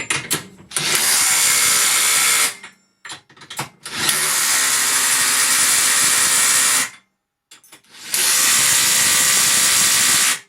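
Three long bursts of a Makita 40-volt cordless impact wrench on maximum setting tightening bolts, hammering and whirring loudly, with brief rattling starts and pauses between them.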